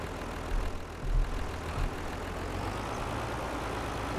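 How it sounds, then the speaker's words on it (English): A tractor engine idles in Farming Simulator 22 with a low, steady rumble, with a few brief louder surges early on and no talking. "let's get in the tractor here"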